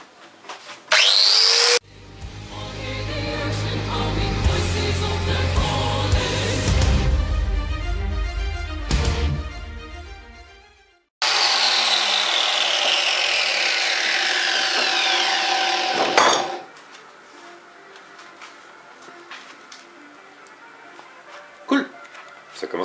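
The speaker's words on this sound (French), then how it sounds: "Un disque à meuler maintenant." An angle grinder's abrasive disc works a small knife blade, a rough rasping whine that runs loud and steady in long passes with brief pauses and restarts between them.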